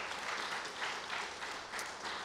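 Audience applause for a singer at an outdoor summer concert, a quiet, even patter of clapping that rises and falls in soft waves, heard at a distance.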